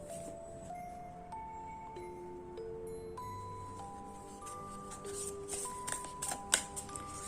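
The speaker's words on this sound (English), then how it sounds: "Shuffle the cards." Oracle cards from The Work of the Light deck are shuffled by hand, a quiet run of soft riffling and slapping that grows busier toward the end, close and faint with a faint tonal background.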